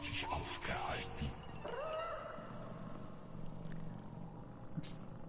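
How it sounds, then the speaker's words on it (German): A cat purrs in the horror game Gori: Cuddly Carnage, a steady low rumble running under game music and effects, with a few brief tonal sweeps early on. "Diese Katze ist schon mega creepy."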